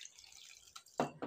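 A small splash of water poured onto kneaded wheat dough, a brief liquid burst near the end after a quiet stretch, close and moderately loud.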